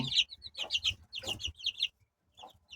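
Several two-week-old chicks, some of them young roosters, cluck and cheep in quick close bursts, with a short pause before one last faint call.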